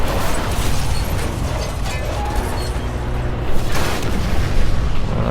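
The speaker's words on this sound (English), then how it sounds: "That was a big explosion there." A loud, sustained rumbling blast fills the clip, with a heavy boom swelling near the middle and debris-like noise continuing after, from an explosion in Marvel's Spider-Man on PS4.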